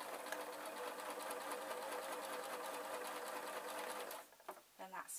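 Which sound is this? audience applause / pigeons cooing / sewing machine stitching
sewing machine stitching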